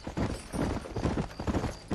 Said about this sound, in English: Back on the horse.